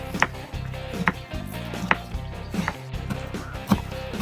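A knife thinly slices an onion on a cutting board, sharp regular taps about once per second, close and fairly quiet, with no talking.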